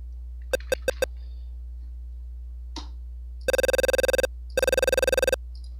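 A PSG sound chip producing telephone-like tones: four quick beeps, then two longer rapidly warbling buzzes resembling a phone ring, crisp and synthetic, alone with no talk.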